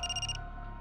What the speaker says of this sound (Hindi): पाटणकर बाई का फोन है।